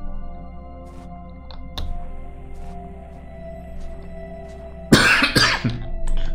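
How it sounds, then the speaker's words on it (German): A person clears their throat and coughs close by, with a faint throaty catch early on and then a loud, harsh cough burst near the end over a low steady hum. "jetzt habe ich mich geräuspert"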